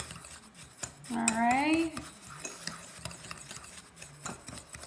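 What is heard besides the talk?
fork stirring bath bomb mixture in bowl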